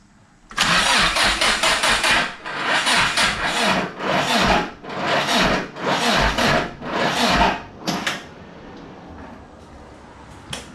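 A Mitsubishi Starion/Conquest engine cranks over in loud, rhythmic starter bursts, about six pulses over several seconds, without catching, then falls to a quieter hum.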